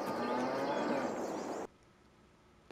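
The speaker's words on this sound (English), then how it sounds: "So now we got a lot more cows in here." Cattle moo in Farming Simulator 22 as one long, loud, close call that cuts off abruptly and is followed by near silence.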